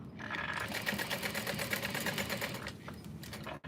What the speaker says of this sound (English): Sewing my hardware into place.